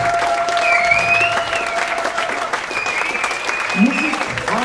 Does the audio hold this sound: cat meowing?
no